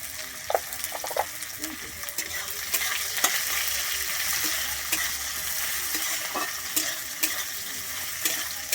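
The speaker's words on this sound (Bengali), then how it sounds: "আমি পেঁয়াজটা দিয়ে কিন্তু এখানে ভেজে নেবো" Chopped onion frying in a pan for a banana flower lentil dish, a steady sizzle broken by repeated scrapes and clinks of a spoon stirring against the pan.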